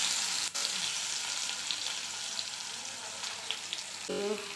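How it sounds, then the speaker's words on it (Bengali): Whole cumin seeds and chopped onions frying in hot oil for a soybean curry, a steady close, loud sizzle with a sharp clatter near the start and a brief clink near the end. "এবার দিয়ে দেবো গোটা জিরে এবার দিয়ে দেব পেঁয়াজ কাটাগুলো"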